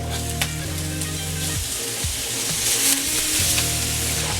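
Onions and carrots stir-frying in sesame oil for vegan fried rice, a loud continuous sizzle with clattering stirs and faint background hum, close up and without speech.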